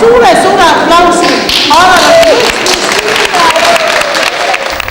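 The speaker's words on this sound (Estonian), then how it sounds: "teeme alal ühe suure aplausi." A big round of applause rises from an audience at a Võru song festival in Estonia, with steady dense clapping under prominent voices calling and singing over it.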